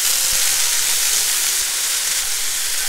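Bean sprouts sizzle loudly and steadily in a frying pan with tofu and carrots for a Japanese vegan side dish, a dense continuous hiss with faint stirring knocks and no talk.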